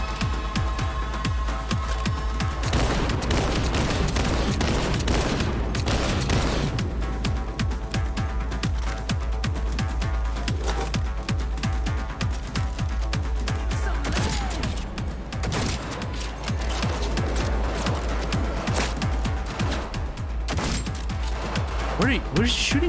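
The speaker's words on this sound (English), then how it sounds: "Where's he shooting me from?" Rapid, dense gunfire from a shooter game set in Cyberpunk 2077, with sustained bursts and shotgun-like blasts crackling loudly and almost without pause over steady background music and game noise.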